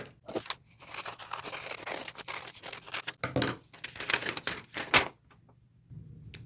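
Scissors cutting a heart shape out of fabric, a close run of crisp snipping and crunching cuts in irregular bursts, ending with a few quieter snips.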